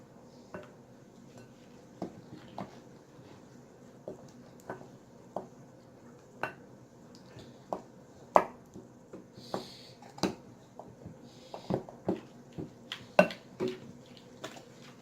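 Slime being mixed in a bowl, heard as a series of light taps, clinks and soft stirring knocks at an uneven, roughly steady pace, fairly close and with no talking.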